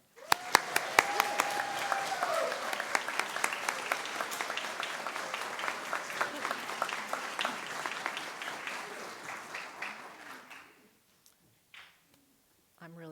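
A church congregation breaks into warm applause to welcome a newly introduced engagement coordinator, many hands clapping together from across the room before the clapping thins and fades out near the end.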